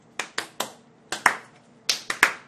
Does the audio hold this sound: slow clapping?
yes